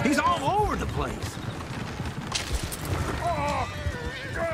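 Horse hooves clip-clop in Red Dead Redemption 2, a soft rhythmic patter from a horse under character voices and game ambience, with faint whinny-like tones drifting above.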